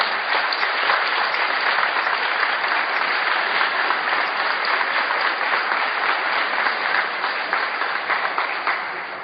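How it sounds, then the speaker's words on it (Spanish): A crowd at a school cooperators' gathering in Santa Fe province, Argentina, gives steady, even applause that holds loud for several seconds and then gradually tapers. "Entonces un aplauso para ellos."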